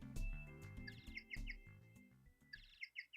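A bird-call phone ringtone from the video game Phoenix Wright: Ace Attorney – Dual Destinies plays as bright chirping tweets in quick repeated bursts over a soft musical backdrop, short and fairly quiet.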